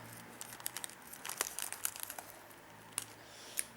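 Quiet crinkling and rustling of plastic packaging as a Pokémon Pikachu gashapon capsule toy is opened with scissors, with small sharp crackles and tearing sounds up close.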